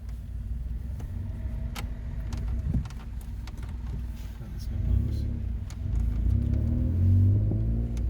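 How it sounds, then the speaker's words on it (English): A 2005 VW Polo with a modified exhaust idles close by in a deep, throaty rumble, swelling louder with a few revs toward the end. "I'm loving that exhaust."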